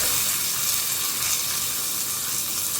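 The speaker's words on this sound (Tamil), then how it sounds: "கருவேப்பிலை போட்டு வெங்காயத்தை போட்டு" Curry leaves and onions hit hot oil in a pan for a loud, close, steady hissing sizzle, broadband and unbroken throughout, with no talking.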